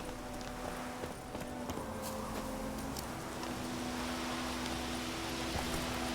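Horse hooves clip-clop steadily on the ground in The Witcher 3, a continuous mid-level rhythm of hoofbeats under ambient game sound.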